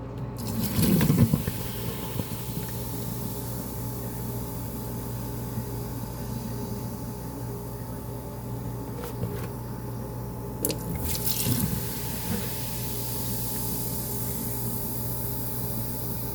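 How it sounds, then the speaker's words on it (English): Vinegar is poured down a kitchen garbage disposal drain onto baking soda, a faint steady gurgle and fizz of liquid with a few louder splashy moments, under a constant hum. "And then you just pour vinegar."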